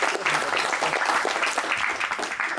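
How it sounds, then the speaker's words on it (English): An audience claps steadily at a game developer talk about Steam game pricing and content, with dense, sustained applause from a large crowd filling the room throughout. "So a round of applause for him on this side."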